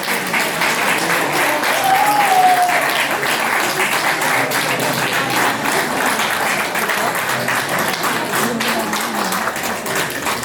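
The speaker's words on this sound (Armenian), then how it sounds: "մամաներին եկեք ծափահարենք" An audience at an exhibition in Los Angeles applauds mothers of the artists, a dense, sustained round of clapping from many hands lasting the whole stretch, fairly loud and close, with a brief voice or two faintly under it.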